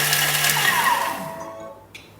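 A Thermomix running at speed 7 for a few seconds gives a loud, whirring blender sound that winds down and fades to quiet near the end.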